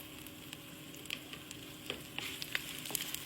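Shallots, ginger and garlic fry in a pan with a steady, close sizzle, broken by occasional sharp crackles and pops that grow busier toward the end, with no voices.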